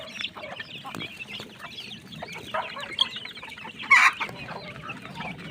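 Chicks in a coop chirp and peep after a feeding, a scattered chorus of small calls at moderate distance, with one louder burst of cheeping near the end and no talk.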